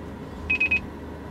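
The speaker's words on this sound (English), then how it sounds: "It'll also beep a few times when you get down to the lowest volume setting." Three quick electronic beeps in a short burst, fairly faint over a low background hum, from a 2015 Mitsubishi Outlander's car radio when turned down to the lowest volume setting.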